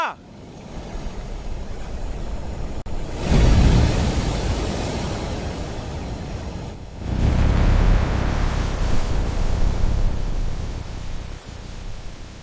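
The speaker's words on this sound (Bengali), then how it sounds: "এই ঝড় আমাদের থামাতে পারবে না।" A storm at sea: broadband rushing noise of wind and surf surges in two loud swells, steady and close, with no clear voices.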